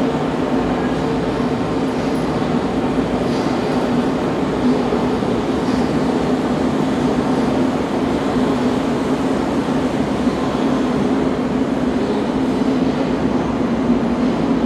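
A Škoda Varsovia metro train, number 98, running on the M2 line through Centrum station in Warsaw, gives a steady loud rolling roar and rumble throughout, close and constant with no talk.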